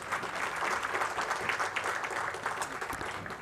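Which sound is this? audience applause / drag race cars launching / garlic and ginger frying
audience applause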